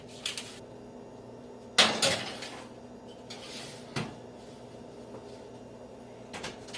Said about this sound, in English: All right, potatoes going in the oven.